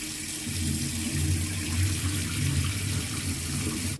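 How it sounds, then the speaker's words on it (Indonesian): Steady running tap water splashing over soybeans being rinsed in a sink, continuous and fairly close. "bilas dengan air mengalir dan tiriskan"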